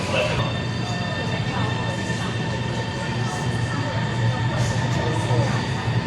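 A Guangzhou metro subway train rumbles steadily along from inside a carriage, with a low constant drone, faint rail squeals and clatter, and a few distant voices in the crowded car.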